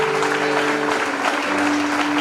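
A congregation at a prayer and healing service applauds and cheers loudly for Jesus Christ, dense continuous clapping with a sustained tonal sound running beneath it.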